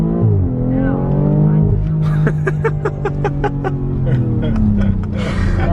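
A Lamborghini drives in Sport mode, its engine note climbing and dropping through rising and falling tones, with a burst of rapid rhythmic pulses in the middle, while people laugh and talk inside the car.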